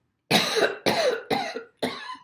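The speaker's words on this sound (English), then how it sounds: "Just give me a good cough, like you have something in your throat." Four forceful coughs in a row, close up and evenly spaced, with brief silences between them.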